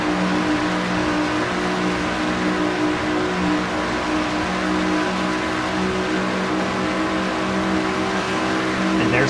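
Engine of a Kodiak Chevrolet stock car, number 25, racing in a video game series, a continuous loud droning whine at steady pitch with a commentator's voice over it.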